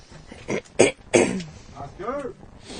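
A person clears their throat a few times in short, rough bursts close to the mic, followed by a brief vocal sound.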